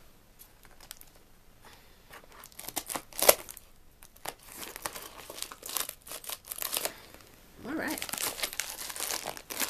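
A plastic mail package of Ipsy beauty products being torn and crinkled open, with irregular close rustling, crackling and ripping bursts that grow busier toward the end, plus one brief spoken word.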